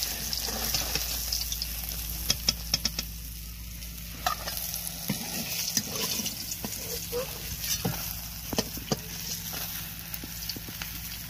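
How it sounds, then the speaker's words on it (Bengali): Pieces of rohu fish fry in hot oil for a biryani, giving a soft continuous sizzle broken by sharp clicks and scrapes of a utensil turning them in the pan. "এইভাবে সব মাছগুলো আমি ভেজে নেব"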